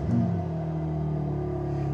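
A car engine catches and settles at once into a steady, low idling rumble that holds evenly throughout.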